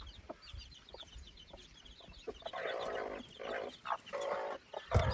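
Chickens, including a mother hen with newly hatched chicks, cluck and chatter nearby in a steady, busy stream of short calls, with faint background noise throughout.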